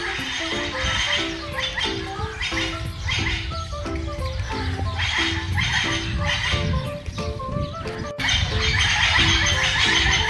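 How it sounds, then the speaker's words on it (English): Parrots and other birds at a zoo aviary sing in a busy, repeating chorus of tonal calls and chirps, fairly close and continuous throughout. "I feel like anytime I go to the birds, first they're quiet and then they just start singing."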